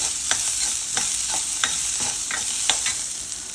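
Small onions frying in a pan, a steady close hiss of sizzling oil broken by regular scrapes and taps of a spoon stirring, with no voices.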